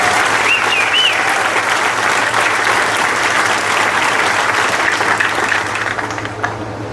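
Sustained applause from a large crowd at a high school graduation ceremony, loud and steady dense clapping that tapers off near the end.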